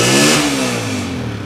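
A 2012 Honda 125 motorcycle with a five-speed gearbox revs hard up close, a loud, rough engine note that climbs and then holds steady at a high pitch, alone with no talking.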